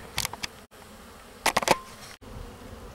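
Honey bees buzz close by around an open beehive, several sharp bursts of buzzing as insects fly past, with quieter hum and handling noises between.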